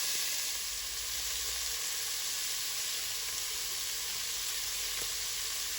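Garlic sizzles steadily in a hot pan for chili, a continuous bright frying hiss from start to finish with no voices.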